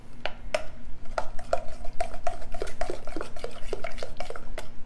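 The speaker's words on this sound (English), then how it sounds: "I'm going to grab a spoon and just stir it around" A metal spoon stirs shredded coconut into a chocolate pie filling in a bowl, giving repeated scraping clinks against the side in an uneven rhythm, close and clear with no voices.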